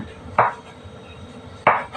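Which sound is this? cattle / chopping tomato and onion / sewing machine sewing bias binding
chopping tomato and onion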